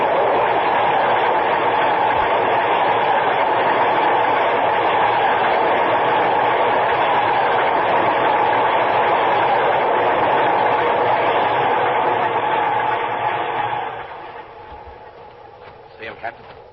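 A train rushes past continuously and loudly for about fourteen seconds as a sound effect in a 1950s police radio drama set on a subway platform, then cuts away to quieter background noise.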